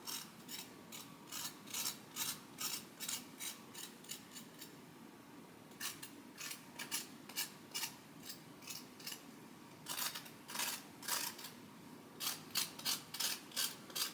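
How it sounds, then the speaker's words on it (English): A baked single-serving muffin has its burnt brown part scraped off in soft, rhythmic strokes that come in several quick runs with short pauses, quiet and close with no talking. "I'm going to lightly scrape some of the brown,"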